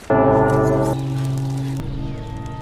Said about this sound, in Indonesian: Merasa janggal dengan suara lonceng itu